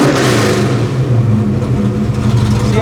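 A Ford Mustang Foxbody engine idles close by, its low steady rumble easing down gradually as the idle speed drops, with a faint whir over the top.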